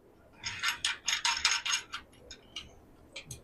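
A hand ratchet tightens bolts on suspension parts with quick, close clicking strokes in uneven bursts that thin out toward the end, with no talk.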